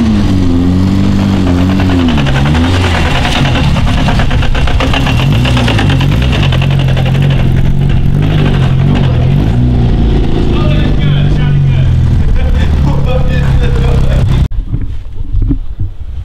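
A loud, rumbling video game car engine revs and roars continuously, pitch rising and falling, then cuts off abruptly near the end as the car parks, leaving quieter background noise.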